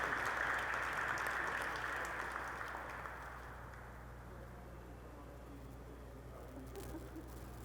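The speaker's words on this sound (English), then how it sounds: "Let's give them a round of applause." An audience at Indiana's annual Holocaust remembrance ceremony applauds. The clapping is brief and fairly faint in a large hall, fading after a few seconds into quiet room tone.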